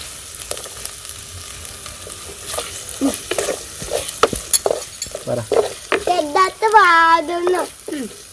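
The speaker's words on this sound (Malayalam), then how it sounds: "ഇളക്കി കൊടുത്തോ ഷെഫേ" Ginger chicken sizzling and frying in a pan as it is stirred by a five-year-old boy cooking, with scrapes and clanks of the utensil over a steady hiss and brief speech.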